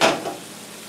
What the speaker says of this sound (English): I'm back to stir it again.